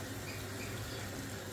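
Water pours steadily into a cooking pot holding salted potatoes, a continuous close splashing hiss with no talk over it.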